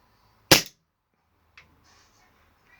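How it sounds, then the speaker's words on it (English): A single sharp crack from a CO2-powered Remington 1911-style air pistol firing one shot, loud and close, followed by faint clicks and handling noise. "Right, I will just make sure, fire a shot"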